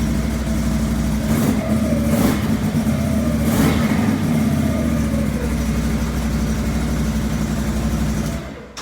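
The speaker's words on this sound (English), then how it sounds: "It sounds just like a Can-Am." A 2020-2021 Can-Am 570 engine runs steadily inside a garage, a loud, continuous near idle with a few brief revs rising over the rumble before it cuts off at the end.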